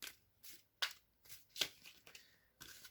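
Tarot cards shuffled and drawn by hand: a series of quick, crisp riffling bursts and soft slaps, close and fairly quiet, with short pauses between them.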